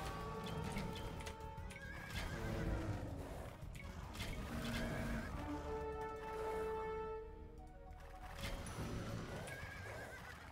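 Horse neighing and whinnying in the strategy game Age of Empires II, with clip-clop hoof sounds and busy battle noise running throughout, no talking.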